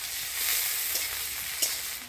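Onion and green chilli sizzle in hot fish oil as a tempering for a Bengali lau-leaf chorchori, a steady close frying hiss with a few crackling pops and light stirring throughout.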